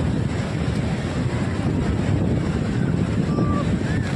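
Sea waves at Digha beach make a constant broadband roar, with wind buffeting the microphone throughout and no distinct breaks between waves.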